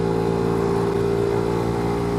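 A Lambretta scooter fitted with a BGM PRO MZ30 exhaust runs close by, its engine holding a loud, steady, buzzing drone throughout with no voices.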